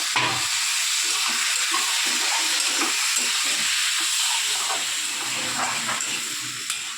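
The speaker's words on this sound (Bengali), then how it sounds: "গাঠিগুলো একটু ভাজা ভাজা হলে কচুগুলো দিয়ে দেবো" Pumpkin stems frying in a pan for a fish-head and potato curry, a continuous loud hiss of oil and steam with soft stirring scrapes, no voices.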